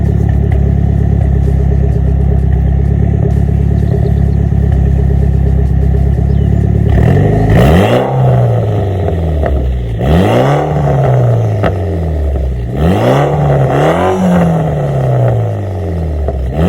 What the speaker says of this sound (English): let's go ahead and give it a few revs.